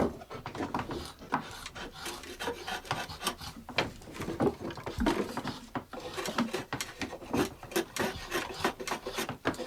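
A craftsman breaks the edges of a handmade wooden rake head, producing steady rhythmic rasping strokes against the wood, close and fairly quiet, repeating throughout without speech.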